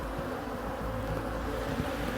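Honey bees at an open hive at an organic apiary in Fujairah, producing cedar honey: a dense, continuous low buzzing hum, close and steady, with no talk over it.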